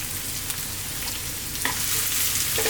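Chopped onion, garlic and ginger frying in a pan for fish curry, a steady close sizzle with occasional stirring clicks, growing slightly louder.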